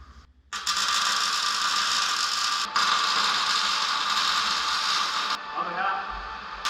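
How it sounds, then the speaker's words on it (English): Arc welding on a steel storage rack frame, a steady loud crackling hiss running for several seconds with brief breaks between welds. "So let's weld this up."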